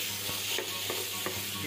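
Pork and bamboo shoots stir-fried in a hot pan, a continuous sizzle with a few scraping stir strokes close up.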